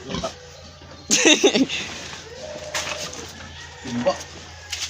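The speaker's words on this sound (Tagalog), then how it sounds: "Ito yung ano, inahing baboy." A sow on a pig farm, 105 days along, grunts during deworming, giving a few short, close grunts in separate bursts against a quiet pen background.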